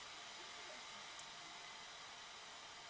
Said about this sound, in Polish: Na pewno słyszycie, jak pracuje już wentylator.